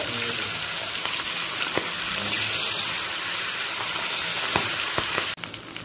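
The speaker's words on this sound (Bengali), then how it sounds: "মাছের 2 পিটি হালকা করে ভেজে নেব।" Pabda fish pieces fry in hot, smoking mustard oil, giving a steady dense sizzle with scattered spits and pops that run throughout, then briefly drop before a clatter near the end.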